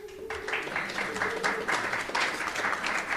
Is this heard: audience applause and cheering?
yes